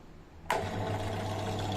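A bench drill press motor switches on with a sharp start, then settles into a steady, close whirring hum with a constant low tone, running alone without speech.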